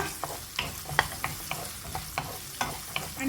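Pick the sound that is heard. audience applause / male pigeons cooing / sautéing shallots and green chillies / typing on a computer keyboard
sautéing shallots and green chillies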